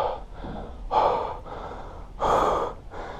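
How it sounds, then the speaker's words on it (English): A man out of breath after landing a big bass on an early spring Wisconsin fishing trip breathes heavily, with several loud close gasping inhales and exhales in an uneven rhythm and no talking. "Oh my gosh, I am out of breath."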